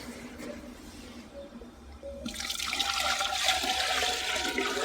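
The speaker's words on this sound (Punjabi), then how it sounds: "ਪਾਣੀ ਪਾ ਰਹੇ ਹੋਣੇ ਹਾਂ ਇਹ ਆਪਣਾ ਮਿਣਿਆ ਹੋਇਆ 6 ਲੀਟਰ ਪਾਣੀ" Six litres of water gushes and splashes into a container, starting quieter then swelling into a strong, continuous pour for the latter half.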